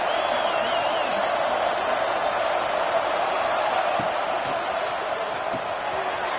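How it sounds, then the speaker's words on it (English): A football stadium crowd roars during a red zone defensive stand, a sustained, dense wall of cheering with no clear breaks. "And here comes the noise. This crowd is trying to inspire this defense to make a big red zone stop."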